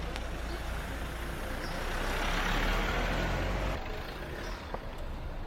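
An old diesel vehicle rolls past close by on a street in Portugal, a steady low rumble that swells to a peak and then eases away amid light traffic noise.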